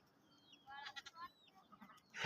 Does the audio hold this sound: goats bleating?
yes